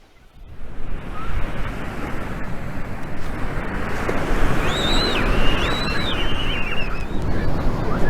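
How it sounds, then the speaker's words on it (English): Ocean surf washing onto a beach in Mombasa, a continuous broad rushing roar that swells in after a quiet start, with faint bird calls over the top near the middle and no talking. "The sound of the beach, that's meditative."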